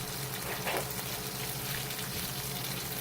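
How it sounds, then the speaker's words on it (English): Garlic frying in olive oil in a pan gives a steady, close sizzle with a soft, watery hiss that holds even through the whole stretch. "added a little bit more olive oil, add the garlic"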